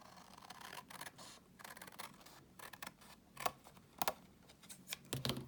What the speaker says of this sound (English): just take your scissors and trim down